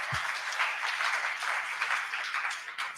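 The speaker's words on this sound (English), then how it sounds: "Let's do some clapping" A large crowd at a blockchain conference opening ceremony claps together, producing a dense, steady wash of applause for a few seconds with no talking.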